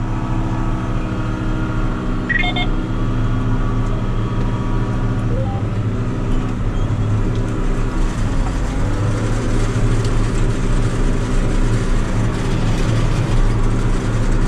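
John Deere tractor working a headland with a Saphir meadow harrow on grassland, its engine giving a steady, close, continuous low drone that holds level throughout with no voices.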